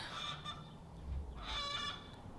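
Faint chicken calls, a couple of drawn-out squawks and clucks, heard at a distance in a quiet outdoor setting with no talking.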